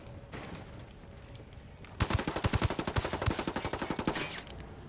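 Rapid automatic gunfire in the shooter game Ghost Wars bursts out loud and close after two seconds of low background rumble, a fast stuttering string of shots that lasts to the end.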